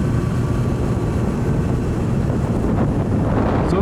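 Rebuilt Honda CB750 motorcycle riding in top gear, a loud steady engine drone mixed with heavy wind rush over the microphone, continuous with no voices.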